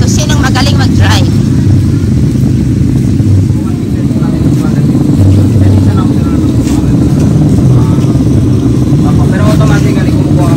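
An ATV engine runs loud and steady throughout, a continuous close-up motor drone with wind and rumble, while people talk over it.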